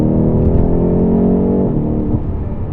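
A BMW M8 sports car's V8 engine accelerates hard and loud nearby, its droning note pulling steadily before easing into a rougher roar.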